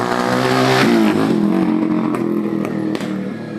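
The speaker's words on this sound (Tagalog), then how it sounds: "Motor with kulong-kulong yan." A Euro 150 motorcycle fitted with a sidecar idles loudly up close, its steady engine drone briefly lifting in pitch before settling, with a few light clatters on top.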